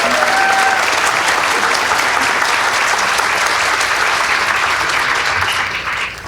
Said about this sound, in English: Can we give him one more round of applause, please?